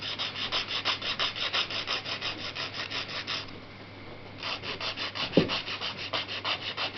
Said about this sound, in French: on vient limer par en dessous. Donc en inclinant un tout petit peu pour raccourcir. Et on lime vers le bas.